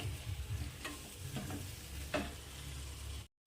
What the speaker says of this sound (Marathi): आता याला परतून घेऊ गॅस मिडियम ठेवायचं आहे